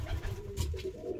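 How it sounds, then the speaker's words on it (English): Iranian saddle show pigeons coo softly in a series of low, throaty bubbling calls, close by, with quiet rustling underneath. "Iranian saddles, show pigeons they are."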